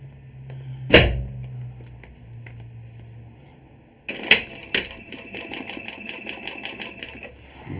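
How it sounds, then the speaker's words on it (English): An industrial walking-needle sewing machine stitches folded sheet material in short bursts, first a brief run and then a longer rapid clatter of needle strokes, close and loud with no talking. "Now, this is an industrial machine. It's got what's called a walking needle."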